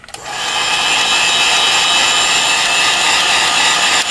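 A heat gun blowing hot air onto the cracked glass of a Galaxy S7 edge phone, switching on after a brief click and then holding a loud, steady, close-up whooshing roar throughout.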